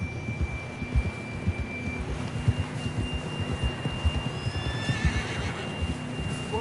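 Horse neigh in the Red Dead Redemption 2 game world, a faint whinny set against a steady low rumble of hooves and ambient noise, with no clear talking over it.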